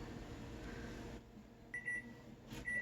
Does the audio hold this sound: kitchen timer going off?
yes